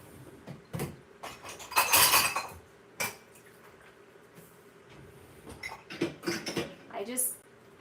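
Dishes and silverware clatter into a kitchen sink in a few bright, clanking bursts, the loudest near the middle and more toward the end, with quieter rustling between.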